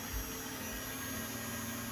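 A white electric fan runs in a home, giving a steady, even motor hum with a low drone that holds constant throughout, with no voices over it.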